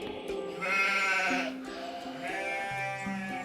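A sheep bleats twice, wavering and nasal, close up, with a gentle tune playing underneath.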